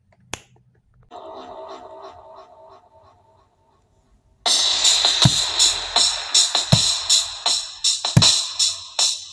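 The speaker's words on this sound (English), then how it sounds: "Wait, that did not sound like a good snap." A single sharp finger snap rings out near and clear at the start, followed by a softer hum and then a louder, busier stretch of clattering sound.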